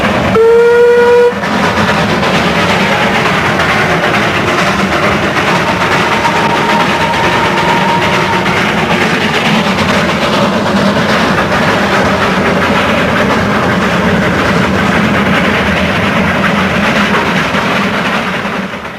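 A B-class steam engine of the Himalayan toy train runs loud and steady, opening with a short whistle blast before a continuous chugging rumble and wheel clatter carry on throughout with no voices.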